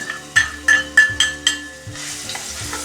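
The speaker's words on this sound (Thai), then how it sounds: "ขั้นตอนต่อไปก็เรามาเจียวกระเทียมนะครับ ที่เรา โขกไว้นะครับเพื่อนๆ ใส่ลงไปเลยครับ" Pounded garlic hits hot oil in a wok for oyster-sauce kale, giving a steady close sizzle with several sharp stirring scrapes at a regular pace, and no voices.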